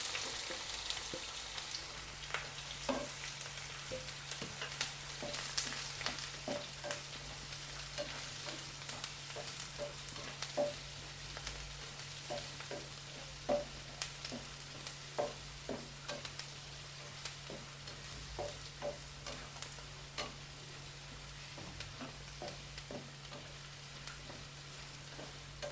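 Chopped onions sizzle gently in hot oil with cardamom and bay leaves for a Kerala pappadam and curd curry, a quiet steady fry broken by scattered crackles and occasional stirring clicks, with a low hum underneath.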